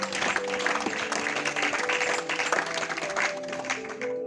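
A church congregation claps together through a service, a dense steady wash of applause with sustained musical tones ringing underneath.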